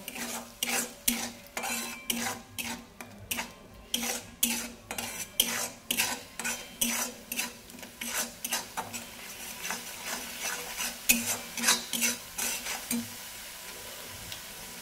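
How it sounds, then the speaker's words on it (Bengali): A spice paste for shahi papaya korma is stir-fried with a little water, a utensil scraping and knocking against the pan in steady repeated strokes over a faint sizzle, close and fairly quiet, with no talking. "একটু জল দিয়ে ভালোভাবে মশলাটাকে কষিয়ে নেব"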